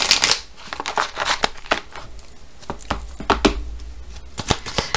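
Oracle cards being shuffled by hand make a crisp run of papery riffles and slaps in irregular bursts, close and fairly loud, with no talking.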